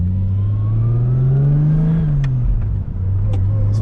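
Manual turbocharged Lexus IS300 driving around the block, engine droning as it revs up and then eases off, a smooth rising and falling tone inside the cabin with a few faint clicks.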